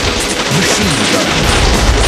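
Rapid machine gun fire from the video game Bot Vice, a dense continuous rattle of shots with booming low end, loud and close, running unbroken for about two seconds with no talk over it.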